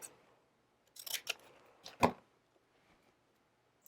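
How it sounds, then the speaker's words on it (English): Scissors cut planner sticker paper in a few quiet, close snips, with one sharper click near the middle and near-silence around them. "So we're going to cut this one and like put it behind this longer box."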